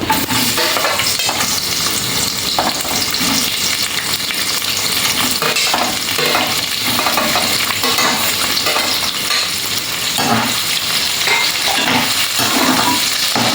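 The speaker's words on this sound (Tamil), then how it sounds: "வெங்காயம் போட்டு கொஞ்சம் லேசாக வதங்கினா போதும்" Onions sautéing in a pan of oil with cardamom for peas paneer pulao, a steady loud sizzle throughout with occasional stirring scrapes.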